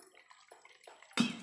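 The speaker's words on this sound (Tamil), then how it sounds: "இதுக்கு நம்ம தேவையான அளவு தண்ணி சேர்த்துக்கலாம்." Water is poured into a mixer jar of ground peanut chutney: after a second of faint kitchen clatter, a short, loud, splashy pour begins and runs to the end.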